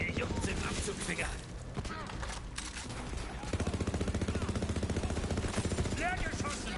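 Automatic weapon fire in Borderlands 3, a fast steady rattling burst that runs throughout and grows denser toward the end, close and loud, with a voice talking over parts of it.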